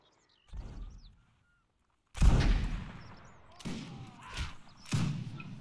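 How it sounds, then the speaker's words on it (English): Reenactors' line fires musket volleys at a Waterloo anniversary event: a faint early crack, then three loud, booming outdoor blasts in a ragged sequence, each rolling away with a long echoing tail. "Fire the line on the right."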